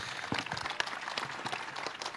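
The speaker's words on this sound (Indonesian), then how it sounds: "Tepuk tangan Suparman Marzuki." Faint, scattered applause from an audience at a political discussion forum, a rapid patter of clapping heard from a distance for about two seconds.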